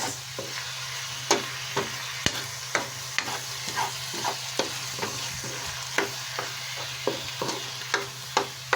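Mushrooms, hotdog and carrots sizzle steadily in a pan while a utensil stirs and scrapes with regular soft knocks, close up and without talk.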